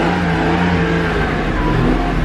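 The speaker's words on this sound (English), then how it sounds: "fire it up, rev it up" Japanese-market car engine revving loudly up close, a dense sustained roar filling the short stretch without any pause.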